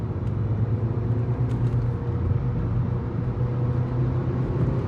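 Volkswagen Polo 1.2 TSI with a DSG gearbox on the move, its engine a steady low drone with a faint hum from inside the cabin, constant and unbroken, no voices.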